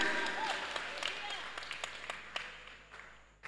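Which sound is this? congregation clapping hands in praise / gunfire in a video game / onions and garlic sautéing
congregation clapping hands in praise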